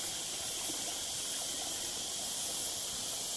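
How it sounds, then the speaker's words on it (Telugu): Water at Bandhakonda rushes steadily down a rocky stream, a dense, constant hiss and gush that fills the whole stretch without a break, heard alone with no voices. "వాటర్ ఫ్లో కూడా చాలా ఉంది."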